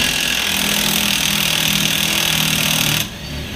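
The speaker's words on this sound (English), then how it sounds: "So you get your 21 millimeter wrench, impact gun if you have it" An impact gun loosens the 21 mm factory bolt on a Colorado ZR2's front shock skid, a loud continuous mechanical rattle that runs steadily for about three seconds, then cuts off sharply to quieter background.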